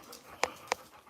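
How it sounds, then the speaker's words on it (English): A dog at a groomer's gives two quick, close, breathy pants about a third of a second apart over quiet room noise. "He's such an adorable dog."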